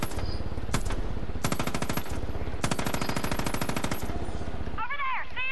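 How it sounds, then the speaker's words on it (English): Enemy machine-gun fire in the video game Far Cry 5 rattles in long rapid bursts, loud and close, broken by brief pauses, with people talking over it. "Oh shit, they're shooting"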